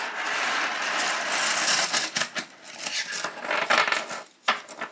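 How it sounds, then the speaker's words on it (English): Fifty I Ching divination stalks being mixed by hand on a table, making a steady dry clatter and rattle with short pauses and irregular clicking bursts toward the end. "So we place it on the table and mix the rest again."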